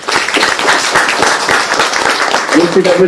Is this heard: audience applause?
yes